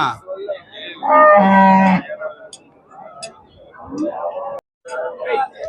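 A cow at a cattle market in Erode, Tamil Nadu, lets out one loud, low moo near the start, followed by quieter talking voices and light clicking sounds.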